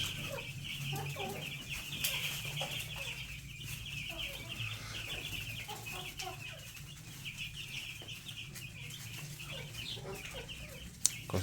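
Broiler chicks peck at wood shavings with faint scattered taps under a constant chorus of high, close peeping and chirping.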